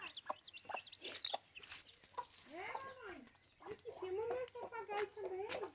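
Chickens cluck in short bursts, including a hen sitting on eggs, close and fairly quiet, with a person talking softly among the clucks.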